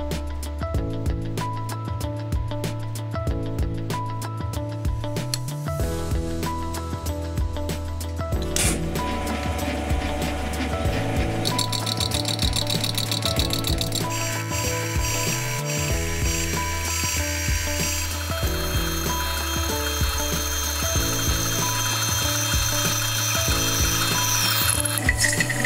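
A lathe trims excess brass from a clock chapter ring held on a super glue arbor, making a steady mechanical whir with repeated scraping and chattering cutting noise, loud and close, with no talking.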